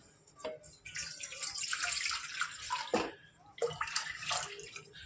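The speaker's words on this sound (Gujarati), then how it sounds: "આ રીતે બધું પાણી નાખી દઈશું ત્રણ ગણું" Water poured into washed grains for a Makar Sankranti seven-grain khichdi, a steady splashing pour that runs for several seconds, pauses briefly, then resumes close by.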